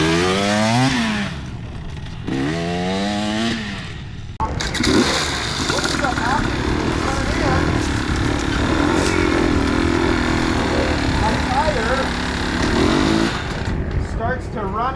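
A motorcycle engine on flat ground revs up and drops back repeatedly, its pitch climbing and falling in waves, loud and close with steady engine roar between the surges.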